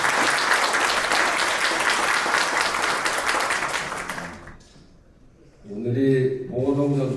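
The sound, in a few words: audience applause at a commemoration ceremony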